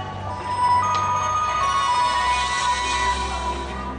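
A mobile phone rings with an incoming call, its melodic electronic ringtone repeating steadily and clearly for several seconds with nothing else over it.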